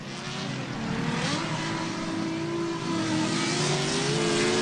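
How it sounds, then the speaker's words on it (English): A drift car with a VQ engine revs hard during a Top 32 drift series round, its loud, sustained engine note climbing and holding steady throughout, with no talk. "VQ trumpeting across the finish line"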